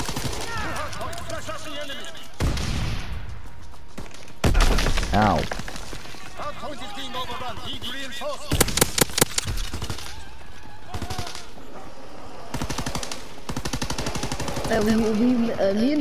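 Gunfire from Call of Duty WW2 with incendiary shells being loaded and fired, sharp bursts and rapid shots breaking out repeatedly over a noisy game mix while a person talks throughout.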